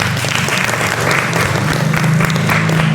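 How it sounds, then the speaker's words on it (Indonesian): Classroom audience applauding during a teacher-training lesson, steady loud clapping from many hands throughout, with a faint low hum beneath. "beri tepuk tangan"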